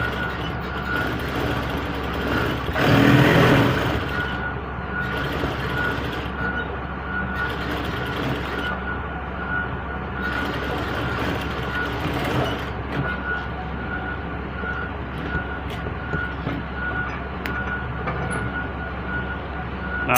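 A sewing machine stitches a pocket on a senator outfit with double pleats, giving a steady mechanical whirr that runs almost the whole time with a brief louder burst early on and no talking.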